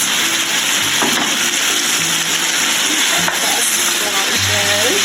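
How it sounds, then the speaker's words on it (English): Vegetables frying in stir fry sauce in a pan for a Thai summer stir fry, with a steady bright sizzle and occasional stirring clinks running throughout, while someone talks softly over it. "we're just gonna dump these in and coat them with that sauce and let them cook"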